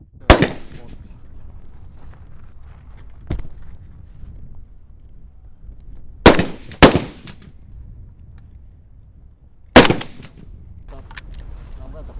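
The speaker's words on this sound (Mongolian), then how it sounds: "3 сум тавилаа" Gunshots fired from the hand outdoors ring out as sharp, loud cracks spaced irregularly a few seconds apart, including a quick pair, over a low background rumble.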